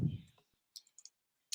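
Quick clicks of typing on a computer keyboard, faint and sparse, come after a brief murmur of voice, a few isolated keystrokes in a quiet room.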